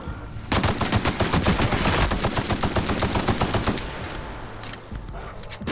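Rapid automatic gunfire from the video game The Outer Worlds rattles loudly in a sustained, evenly spaced burst of shots for about three seconds, then thins to a few scattered sharp reports as the volume drops.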